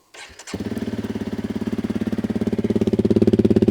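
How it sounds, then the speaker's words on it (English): A Honda CRF300L Rally motorcycle with its spark arrestor removed starts up and settles into a loud, choppy exhaust beat with steady rhythmic pulses that grow slightly stronger, close to the listener and with no talking. "And I'll rev it for you. Like, it has a real beefy, mean note"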